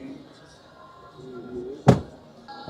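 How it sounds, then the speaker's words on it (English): The door of a Chevrolet Silverado ZR2 Bison pickup at an auto show gives one sharp, loud thunk near the end, amid hall murmur and nearby talk. "Let's open the door here."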